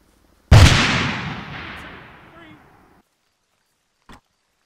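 A single loud grenade blast in a military video game, a sudden sharp boom whose rumbling tail fades over about two seconds, followed by silence and a brief faint sound.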